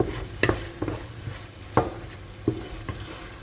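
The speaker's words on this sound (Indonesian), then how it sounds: "Aduk kembali sampai bumbu ini matang agar nggak langu nanti teman-teman." A spoon stirs turmeric, bay leaves and lime leaves frying in a pan for sate seasoning, with a few scraping clacks against the pan over a soft continuous sizzle.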